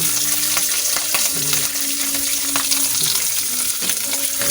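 Garlic and onion fry in a pan with oil, a loud continuous sizzle with scraping stirs, steady throughout with no voices.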